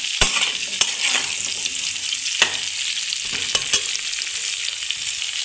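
Drumsticks (moringa pods) are stir-fried in a pan for a Bengali recipe. Steady oil sizzle runs throughout, with several sharp clinks and scrapes of the spatula against the pan, close up and with no talk.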